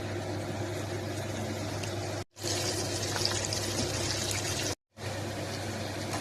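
Mushroom pakora frying in hot oil in a kadai gives a steady, close, dense sizzle that runs without a break apart from two very short cuts. No voices are heard.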